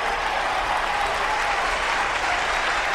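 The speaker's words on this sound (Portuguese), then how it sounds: "Uma salva de palmas para eles." Audience applause fills the room, a continuous dense roar of clapping hands at steady loudness from start to finish, heard alone without talk.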